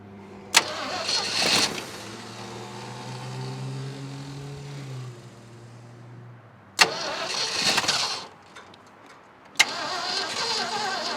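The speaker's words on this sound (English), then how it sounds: "I guess I'll just throw some gas in there, see if it runs." An old Ford truck, left abandoned for 39 years, cranks and fires several times. One long start catches and runs for a few seconds before dying, followed by more brief cranking attempts. It is close and loud, with no talk.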